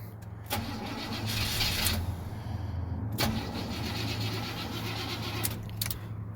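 Engine of an old shop truck being started and cranked, with repeated starter bursts that catch and fall back, over a steady low engine rumble, close and fairly loud.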